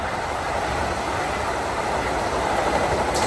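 A train running steadily with a continuous broadband rumble of rolling wheels and carriage noise, close and loud, no speech.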